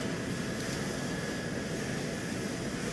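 A steady, loud drone from an airplane engine in a chaotic building-and-destruction video game, holding an even, continuous tone with no speech over it.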